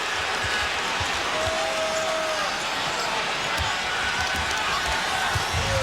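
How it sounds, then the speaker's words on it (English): An NBA playoff crowd at Staples Center, with the Lakers trailing, murmurs steadily while basketball bounces and thumps come through and a commentator speaks over the arena noise. "You can feel the crowd a little anxious here at Staples Center"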